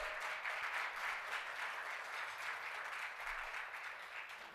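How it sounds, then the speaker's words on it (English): An audience applauds at a brunch during opening remarks for an asbestos disease awareness organization: steady, moderately distant clapping that holds for several seconds and eases slightly toward the end, with no one speaking over it. "So I hear your applause."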